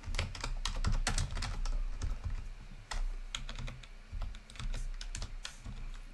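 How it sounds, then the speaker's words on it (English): Steady typing on a computer keyboard during a cash-flow software demo, with irregular bursts of quick key clicks and short pauses, fairly close and moderately quiet, with no voices. "Excuse my typing."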